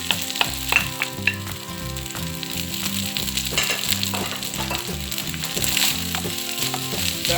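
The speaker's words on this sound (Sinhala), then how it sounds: "දැන් මම ගත්ත බාස්මති බත් ටික දාගන්න." Basmati rice is stir-fried with onion and garlic in a pan, giving a close, steady frying sizzle broken by the rhythmic scrape of stirring.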